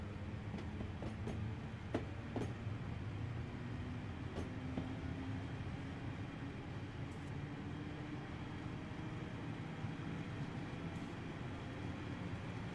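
Class 411 electric train in a train simulator game, running steadily with a continuous broadband rumble and a few faint clicks, no talk.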